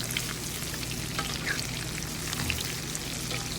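Shrimp coated in breadcrumbs, tempura style, fry steadily in hot oil, giving a dense, continuous sizzle with fine crackles throughout, close and even in loudness with no talking.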